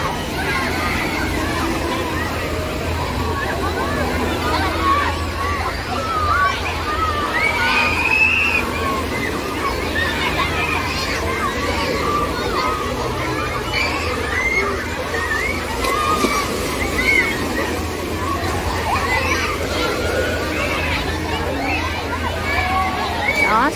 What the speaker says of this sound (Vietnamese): Đó, sóng nước.